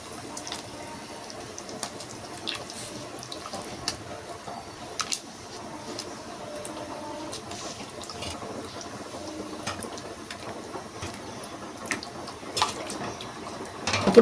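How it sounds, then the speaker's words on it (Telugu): Fish being rinsed with water before going into a curry, a faint trickle and splashing close by with small clinks, quiet and steady throughout. "అవి మళ్ళీ ఒకసారి నీళ్ళు పోసి శుభ్రం కడిగేసుకొని దాంట్లో వేసేసుకోవాలి"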